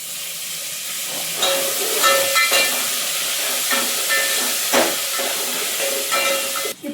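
Curry leaves and asafoetida sizzle steadily in hot tempering oil for sambar, a continuous close hiss with brief crackling spurts throughout.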